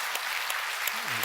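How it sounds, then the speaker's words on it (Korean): A church congregation claps at a Sunday worship service, a short burst of steady applause with a voice speaking briefly near the end. "우리 박수 한번 해주십시다"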